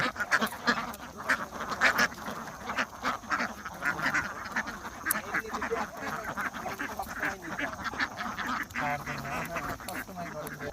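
A flock of free-range ducks on an open wetland quacking in overlapping bursts, some calls near and others farther off, against a soft outdoor background with no clear talking.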